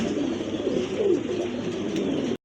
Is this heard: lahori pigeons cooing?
yes